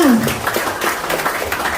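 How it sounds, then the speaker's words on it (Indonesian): Applause from an audience, a steady wash of many hands clapping, fairly loud and continuous, with a brief vocal sound at the very start. "Tepuk tangan dulu untuk Bapak Ibu semua."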